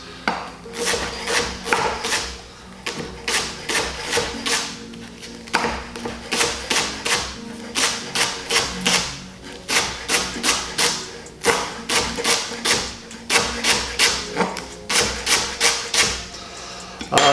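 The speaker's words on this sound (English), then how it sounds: "Split the leek down the middle like that, and then you want it cut into, I don't know, centimetre pieces." A knife chops a halved leek into centimetre pieces on a cutting board for a salmon and leek quiche, making steady, rapid rhythmic tapping in runs of sharp knocks with brief pauses, close and clear.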